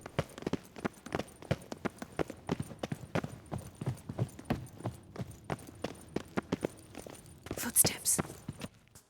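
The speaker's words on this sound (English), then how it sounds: "Footsteps." Footsteps in The Witcher 3 tap out a steady, evenly paced rhythm of firm, close steps for several seconds, with a brighter noisy burst near the end; no voices.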